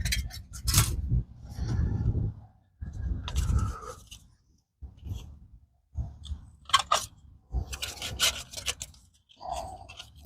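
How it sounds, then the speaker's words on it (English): A soft aluminum windscreen from an alcohol stove cook kit is rolled up, producing close crinkly rubbing and scraping in short bursts separated by brief pauses. "The nice thing about the aluminum, it's soft, so that just rolls up nice"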